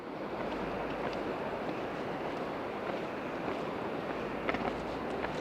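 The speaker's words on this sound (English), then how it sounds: "I don't know if you can hear the ocean" Ocean waves wash along the coast in a continuous, fairly loud roar mixed with wind, with no voices present.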